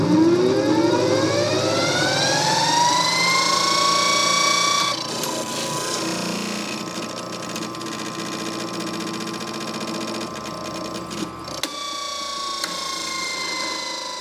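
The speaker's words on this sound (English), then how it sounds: "the brush position can be moved to the right to have the motor run clockwise." An Emerson repulsion-start, induction-run AC motor spins up with a rising whine, then settles into a steady loud hum with mechanical buzzing and a couple of faint clicks.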